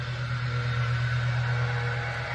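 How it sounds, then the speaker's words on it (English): A lawnmower runs nearby with a steady, droning engine hum that holds at an even level throughout, with no speech over it. "And I apologize for the lawnmower."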